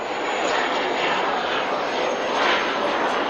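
A Fouga Magister jet roars past at an airshow while a wing walker rides on it as a farewell display. The engine noise is loud and continuous, a broad rushing roar that swells slightly as the aircraft passes.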